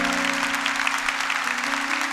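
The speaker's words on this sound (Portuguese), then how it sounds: "Pode aplaudir para valer" A church congregation applauds steadily through the whole stretch, dense even clapping filling the space while a low sustained organ or keyboard tone hums underneath.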